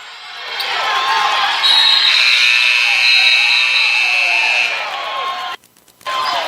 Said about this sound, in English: He called a timeout before the buzzer.